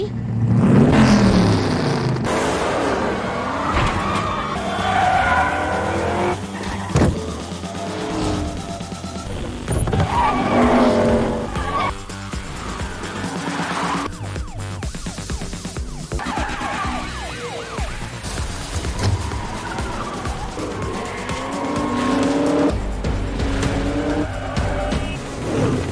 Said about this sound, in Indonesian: Dalam balapan itu, Dom berhasil mengalahkannya